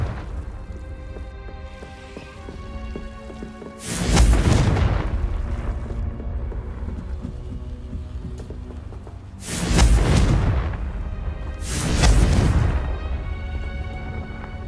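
Confringo fire spell explosions in the video game Hogwarts Legacy: three heavy booming blasts, each rolling off into a crackling tail, set against a constant rain-like ambient background.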